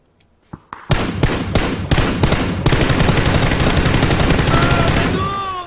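Loud video game gunfire: a few sharp single shots, then dense rapid automatic bursts that run on continuously, with a faint whine near the end.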